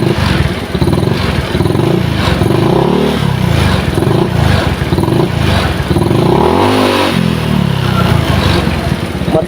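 Motorcycle engine with a weak throttle spring revs loudly and close, then slowly sinks back toward a rough, sluggish idle with some rattling clatter throughout.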